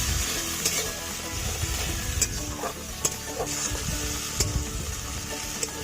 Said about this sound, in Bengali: এখন মশলাটা ভালোভাবে কষিয়ে নিতে হবে।